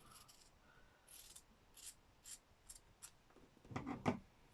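Scissors trim velvet fabric in a series of soft, quiet snips, spaced irregularly and ending with two sharper cuts close to the microphone.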